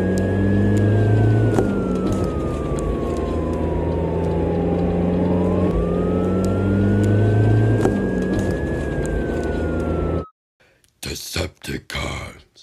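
A toy car drives up with a wailing siren in a Transformers stop-motion scene, steady engine-like rumble under a rising and falling siren tone for about ten seconds, then abrupt silence and a few short bursts.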